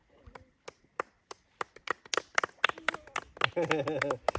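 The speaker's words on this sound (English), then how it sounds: "Round of applause for Freya." A small group claps for a girl named Freya at a campsite, scattered hand claps starting sparse and quickening into a denser patter, fairly quiet and close, with a voice cheering near the end.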